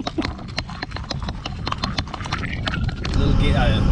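Mule hooves clip-clopping in a quick, regular rhythm on a trail ride, close and clear, with a voice speaking over the steps before a rougher rustling noise takes over.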